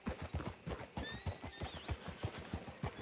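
Horse hooves clip-clop at a steady trot in a Red Dead Redemption 2 town while a horse lets out a brief whinny partway through, all fairly quiet with other game ambience beneath.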